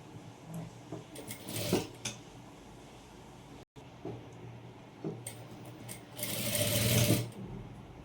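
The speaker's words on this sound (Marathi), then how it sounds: "इथे आपण अर्धा इंचाची शिलाई मार्जिन मारून घेणार आहोत" Electric sewing machine stitching a half-inch seam margin on a princess-cut blouse, two short bursts of rapid mechanical whirring with quiet handling sounds between them.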